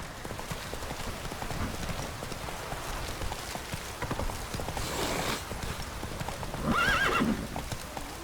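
Roach the horse galloping in The Witcher 3, steady rapid clip-clop of hooves close by, with a loud whinny partway through, over light ambient game sound.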